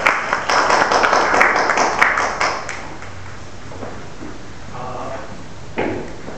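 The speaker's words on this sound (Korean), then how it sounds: "큰 박수로 맞아주시면 감사하겠습니다" A conference audience claps to welcome a presenter at a meeting, a dense burst of clapping for about three seconds that quickly dies away into room noise and faint shuffling.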